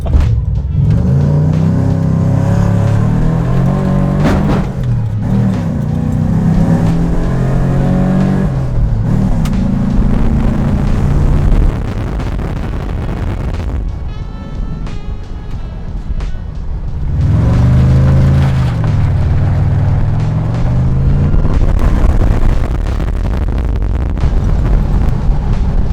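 A car engine runs loudly and steadily at a community car event after a 1000-mile drive, its tone rising and falling as it revs, with wind buffeting the microphone and no talk.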